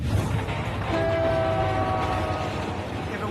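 A freight train rumbles steadily through a remote snowy region, its horn sounding a sustained multi-tone blast over the continuous low roar of the cars.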